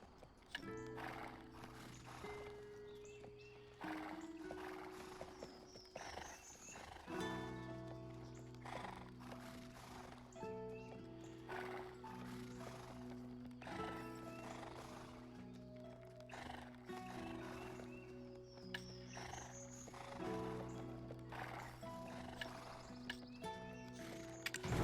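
A horse in a video game neighs and its hooves clip-clop in a steady walking rhythm. The sound is fairly quiet and set against sustained background game music.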